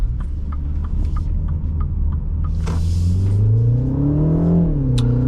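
A 2025 MINI Countryman S ALL4 launches from a boosted start, its engine droning loudly inside the cabin, then the pitch climbs steadily through the revs and shifts before rising again.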